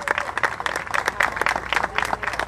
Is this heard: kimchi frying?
no